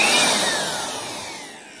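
A 700-watt Jakmister electric air blower runs at full speed, giving a loud, steady rushing whoosh with a high whine that eases slightly toward the end.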